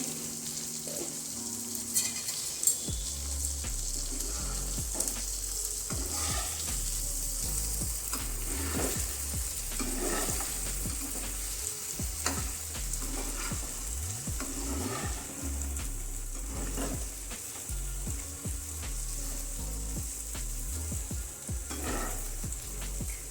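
Stuffed okra cooking in an open pan gives a continuous close sizzle and fry, with repeated scraping stirs across the whole stretch and no voices.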